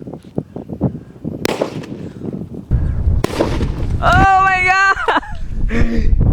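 A large elephant firecracker explodes inside a pressure cooker with sharp, loud blasts and a rumbling roar, followed by a brief whistling tone, with voices heard nearby.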